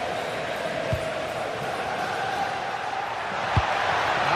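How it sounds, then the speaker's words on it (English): Steady roar of a stadium crowd in a football video game, a broad sustained wash of noise with a couple of sharp thuds and a slight swell toward the end. "The crowd certainly think so. Just listen to that noise."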